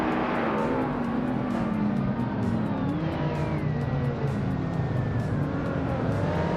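Race cars roar through a video game race led by a 1994 Nissan 300ZX, engines droning loud and continuous with shifting pitch and occasional tire squeal, no talk.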